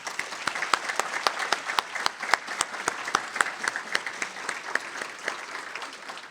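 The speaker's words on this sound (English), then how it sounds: "Let's have a big round of applause for them." Fairly quiet applause at a literacy fundraiser breakfast, with distinct individual claps giving an uneven, sparse rhythm over several seconds.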